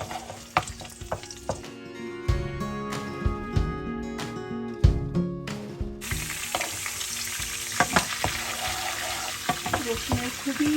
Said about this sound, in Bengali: রসুনটাকে একটু ভেজে তেলের মধ্যে